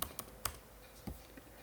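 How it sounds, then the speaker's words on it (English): Arrow keys pressed on a computer keyboard during design work for a Brother ScanNCut cutting machine: four or five separate quiet clicks, spaced irregularly and close to the microphone, with no talking. "you can always just use your arrow keys"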